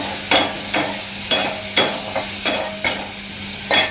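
Eggplant with neem leaves fries under a low sizzle, while a spatula scrapes and knocks against the pan in a steady rhythm of about seven strokes.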